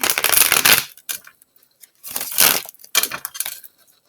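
Tarot cards are shuffled in three quick riffling bursts separated by short pauses, crisp and close with no talk.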